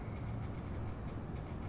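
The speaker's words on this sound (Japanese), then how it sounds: "電車、後ろに下がります。" An E233-7000 series electric train moving backward gives a faint, steady low rumble and rolling drone, continuous with no distinct events and no speech.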